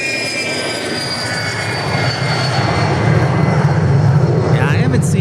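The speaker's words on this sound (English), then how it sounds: "Next departure is a little, I believe, Beechcraft?" A small Beechcraft aircraft departing from Dallas Love Field, its engine drone building steadily louder and nearer, while people talk over it.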